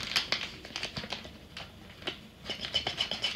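Scissors snip repeatedly in quick, crisp clicks and scrapes, close and faint, with a steady choppy rhythm.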